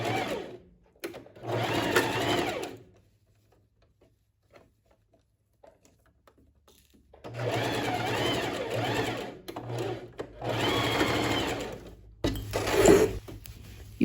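A sewing machine stitching the lining of a tailored vest runs in several steady bursts separated by quiet pauses, close and clear with no talking.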